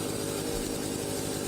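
A chainsaw limbing a felled tree in Farming Simulator 25 runs at a steady, loud, close buzzing drone throughout, with no pauses and no voices.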